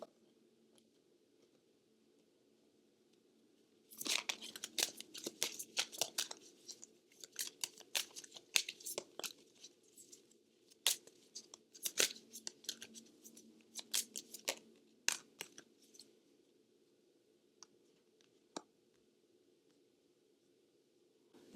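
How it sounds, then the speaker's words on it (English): Oracle cards shuffled and pulled from the deck, a rapid run of crisp papery clicks and riffles starting a few seconds in and continuing in bursts, close and fairly quiet over a low steady hum. "So let me pull an oracle card."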